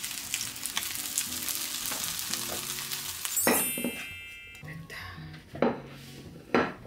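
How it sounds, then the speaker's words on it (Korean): Crab omelette sizzling in a frying pan, a steady crackling fry that gives way to sharp clinks and scrapes of a utensil against the pan, with a few louder knocks near the end. "오, 이 완벽한 지글지글."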